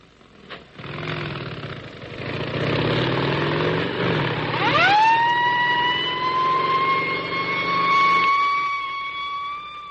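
Motorcycle escort sirens heading to LaGuardia Airport in New York start low and rumbling, then rise into a loud sustained wail that holds steady for several seconds, with engine noise underneath and no speech.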